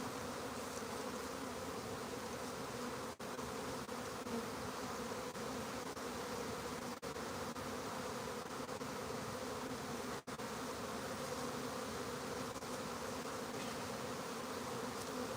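A honeybee swarm gathered at a Langstroth hive box gives off a steady, dense buzz that holds at an even level throughout, close and continuous, with no talking.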